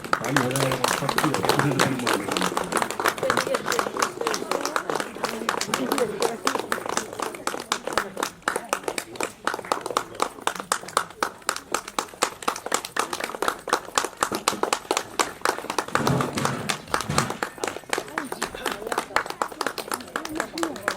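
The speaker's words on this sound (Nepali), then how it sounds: "खै त ताली" Audience applause at a ceremony marking a recovery celebration with a lamp-lighting; dense, sustained clapping fills the room almost throughout, with voices mixed in underneath.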